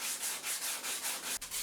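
Sanding of the fairing inside a catamaran hull makes a steady, close rasping scrape in quick regular back-and-forth strokes, with a brief break near the end.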